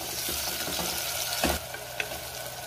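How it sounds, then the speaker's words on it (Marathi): Tomatoes sauté in a pan with chopped coriander for a dhaba-style whole masoor curry, giving a steady close sizzle with a few soft stirring clinks and one louder scrape near the middle, without speech. "टोमॅटो 2 मिनिटं चांगला परतून घ्यायचा आहे"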